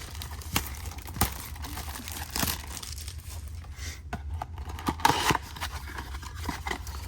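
Packages being cut open with scissors and their plastic packaging crinkled, a series of close crisp snips, tears and crackles at irregular intervals.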